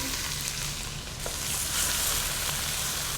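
Garlic, chopped shallots and onion frying in olive oil, a steady close sizzle with a continuous crackling hiss throughout and no talk.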